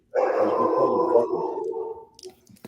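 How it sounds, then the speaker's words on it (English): A dog barking and howling in a drawn-out, continuous call close by, followed by a few faint clicks and knocks. "My dog is barking."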